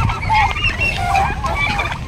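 Pet turkeys calling close by, a dense, continuous mix of rough gobbling and clucking bird noises with no gaps.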